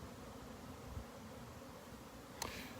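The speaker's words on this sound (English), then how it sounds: "So the bees are nicely buzzing away" Honeybees buzzing around their hives, a steady low hum outdoors that carries evenly throughout, with a brief louder bump near the end.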